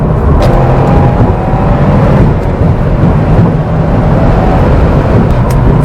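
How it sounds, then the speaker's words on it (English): A Subaru WRX accelerates hard, its engine roaring loud and close as it pulls through quick changes from 3rd to 4th to 5th gear, with a dense, rumbling drone throughout. "3rd to 4th to 5th gear changes, actually pretty sweet."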